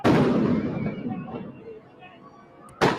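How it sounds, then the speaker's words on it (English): A heavy, booming shot rings out up close in a street protest as police on horseback fire rubber bullets, decaying into a long rumbling tail before a second sharp report lands near the end. "The LAPD moving in on horseback, firing rubber bullets at protesters, moving them on through the heart of LA."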